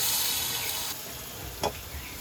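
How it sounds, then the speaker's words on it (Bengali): Onion and garlic paste stir-fried in hot oil with a dried chilli, producing a soft, continuous sizzle with a faint scrape of stirring partway through. "পেঁয়াজ রসুনটা একটু তেলে নাড়িয়ে নেব।"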